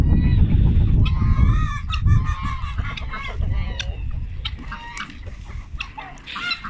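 Poultry at a breeding farm, with a young rooster and geese, keep up a loud nearby chorus of honking, clucking and crowing calls that overlap throughout.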